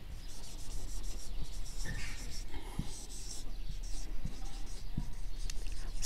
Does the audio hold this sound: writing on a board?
yes